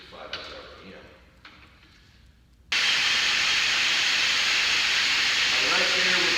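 After some quiet handling noises, a White Lightning hurricane wind turbine on a static ground run is switched on at its lowest speed setting and gives off a sudden, loud, steady rushing hiss that continues without letup.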